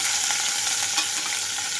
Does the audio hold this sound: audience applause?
no